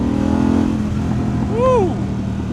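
A 2025 Harley-Davidson Pan America ST motorcycle engine rises and falls in a short rev while riding, heard as a brief swell over steady road noise.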